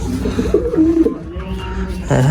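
White pigeons coo repeatedly, soft throaty calls rising and falling close by, with a louder burst of cooing near the end.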